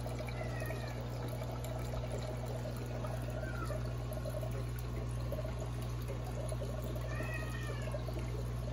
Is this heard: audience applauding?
no